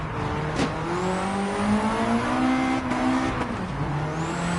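A retro race car in Gran Turismo 7 holds a steady, droning engine note near its limiter, with harmonics that waver up and down, while a faint whine rises in the background; continuous and moderately loud, with no talk.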